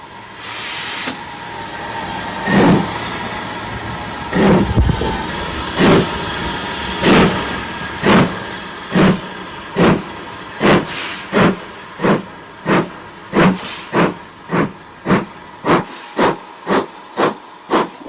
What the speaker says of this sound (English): it only remains for Mike to wave the green flag to allow the train to resume its journey